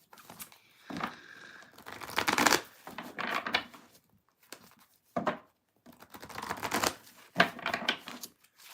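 Bursts of papery riffling and flicking as tarot cards are shuffled, coming in several short bursts separated by pauses, close and soft.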